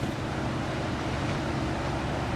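Ocean waves on the Pacific coast of California along the Pacific Coast Highway make a constant broad roar of surf, loud and unbroken, mixed with wind buffeting the microphone.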